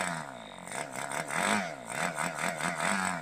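An Evolution 46 model aircraft engine, still running rich and not yet broken in, buzzes nearby with a wavering, rising and falling drone as the revs shift.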